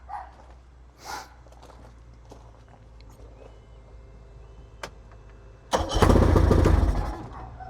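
A boat's outboard motor, freshly unchoked and run briefly out of the water, fires up and roars loudly for about two seconds before cutting off, following quieter engine rumble and a few knocks.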